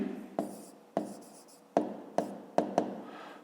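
A pen writes on paper in short, close scratchy strokes, about seven distinct bursts separated by brief pauses, quiet and alone.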